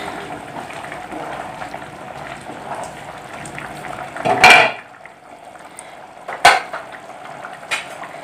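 Basanti pulao being stirred in a pot just uncovered, a soft background hiss broken by two sharp metallic scrapes and clanks of a spoon against the pot, close and distinct.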